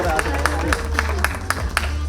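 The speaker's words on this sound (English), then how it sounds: "round of applause and let's welcome them" Audience clapping at the Kathmandu Fashion Gala runway show, a steady wash of applause with regular sharper hand claps over low background hum and a voice talking beneath it.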